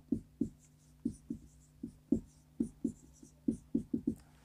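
Chalk or pen writing on a board, a series of short distinct strokes in an irregular rhythm, close and fairly quiet with no talking.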